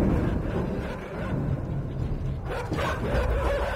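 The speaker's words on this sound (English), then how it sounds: "Bad dogs." Dogs barking and yipping in the game INSIDE, a steady dense layer of close, agitated barks running through the whole stretch, with no talk over it.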